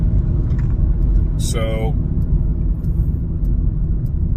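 A car on the freeway, heard from inside the cabin, gives a loud, constant low road rumble with a brief higher whine, while a person speaks over it.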